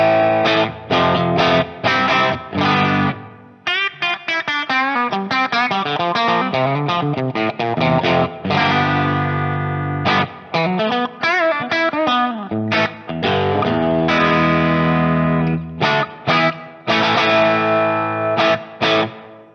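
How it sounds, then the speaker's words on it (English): Dimed electric guitar run through a Captor X effects unit, heavily distorted with chorus-like shimmer, loud and continuous with chords and riffs separated by brief stops, with no talking. "So the effects that you're hearing are coming from the Captor X, of course, up here."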